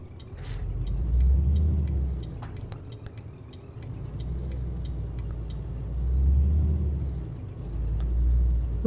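Truck in Euro Truck Simulator 2, Scandinavia add-on, rolling slowly in: a steady low engine rumble that swells and eases several times, with faint regular ticking above it.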